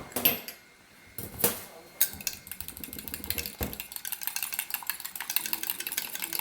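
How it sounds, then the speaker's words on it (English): Meatball mixture with garlic salt and cracked pepper is whisked in a bowl, a few loud clinks giving way to rapid, quieter rhythmic whisking strokes. "I'm just going to whisk it."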